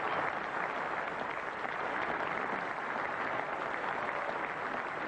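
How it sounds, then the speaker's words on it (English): Warm, sustained applause from a cricket crowd at the third Test of the 1992 England versus Pakistan series, with England fielders joining in, a steady distant patter without talk. "Warm applause all the way around,"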